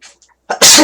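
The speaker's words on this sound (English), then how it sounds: "I love the feeling of sneezing" A single loud, close sneeze bursts out after a couple of quick faint inhales, sharp and explosive at the end.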